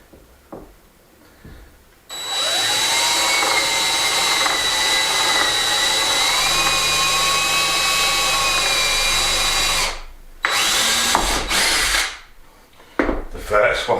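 A cordless drill set to low torque drives screws into pilot holes drilled with a 3.5mm bit in a hay loft, whirring steadily for about eight seconds before a pause, then a couple of shorter bursts.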